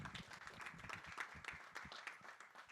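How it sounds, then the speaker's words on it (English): An indoor conference audience on ending tuberculosis in Africa applauds, a short round of quick, dense clapping heard fairly close and fading slightly toward the end. "Let's give Luchika a round of applause."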